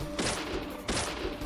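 Gunfire in the horror video game Deadly Premonition comes as two sharp, loud bursts about 0.7 seconds apart. Each burst is broadband, close and abrupt and fades quickly over a low rumble.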